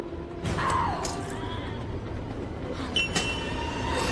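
A train rumbles steadily with metallic wheel squeals rising above the roar in a scene from the 1999 film Stigmata, loud and continuous.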